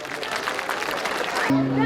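An audience at a Turkish folk music program claps warmly in a steady patter of applause to welcome two singers to the stage, ending as a sustained musical tone enters.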